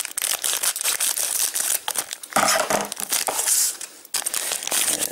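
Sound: opening a Loot Crate box packaging

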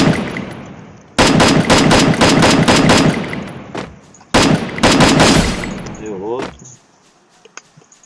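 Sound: gunfire in Free Fire video game

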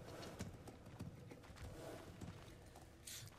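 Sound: horse hooves clip-clopping in a video game

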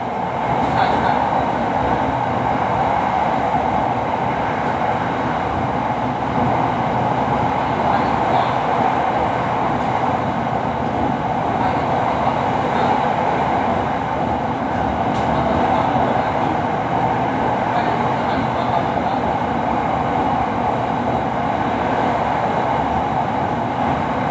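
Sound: Bangkok SRT Red Line electric train crossing the Chao Phraya River

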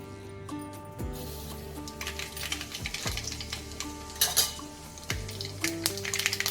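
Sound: mustard seeds sizzling in hot oil for tempering

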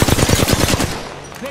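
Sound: enemy gunfire in video game Apex Legends

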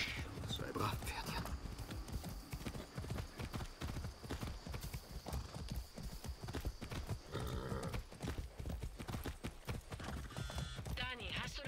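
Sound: horse hooves clip-clop, from video game Far Cry 6

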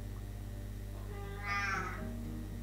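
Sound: cat meowing

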